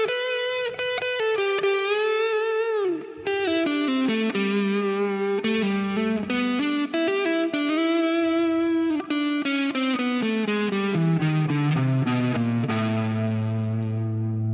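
Distorted electric guitar plays a song intro, a fast run of bright picked lead notes, slightly free in time, descending gradually toward low sustained tones, loud and alone with no talking.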